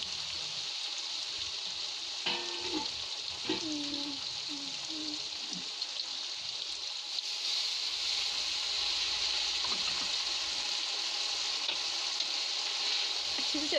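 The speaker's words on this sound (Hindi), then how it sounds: "हम गैस को थोड़ा सा स्लो कर देंगे और थोड़ा सा इसमें पानी ऐड कर देंगे।" Mixed vegetables with peas sizzling steadily in a pan on low gas after a little water is added, a continuous close frying hiss with brief stirring scrapes near the start.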